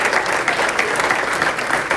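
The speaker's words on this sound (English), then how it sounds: "give yourselves a nice round of applause" An audience at a holiday luncheon claps steadily, a dense, even round of applause from a large room crowd, close and continuous throughout.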